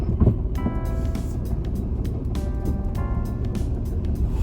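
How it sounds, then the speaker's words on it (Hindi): Car engine idling steadily inside a vehicle in India, a continuous low rumble with faint clicks and tonal whines over it, no talk. "हाँ गाड़ी चालू है"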